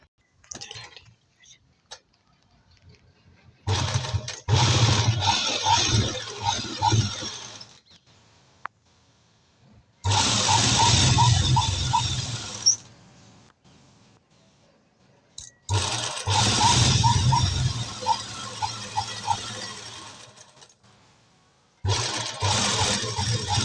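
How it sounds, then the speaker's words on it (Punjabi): Sewing machine stitching a fabric sleeve, running in three long bursts of steady mechanical whirring and clatter separated by quiet pauses, fairly close and loud. "ਹੁਣ ਆਪਾਂ ਤੁਹਾਨੂੰ ਸਲਾਈ ਲਾ ਕੇ ਦਿਖਾ ਰਹੇ ਹਾਂ"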